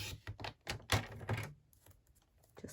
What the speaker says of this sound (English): Just trim that little bit off there,